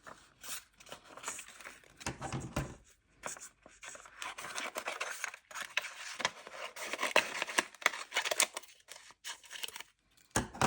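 Scissors cut through vellum paper at a card-making table, giving a run of crisp snipping, slicing and crinkling sounds close up, with short pauses between cuts.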